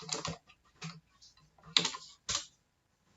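Typing on a computer keyboard during a JavaScript chatbot demo, with short irregular bursts of close key clicks separated by pauses, no voices.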